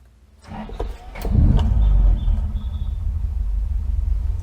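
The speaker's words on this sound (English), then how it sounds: "Right, let's fire up the engine." A 1968 Toyota Corona with extra power cranks briefly, then its engine catches with a loud roar and settles into a steady, deep idle rumble close by.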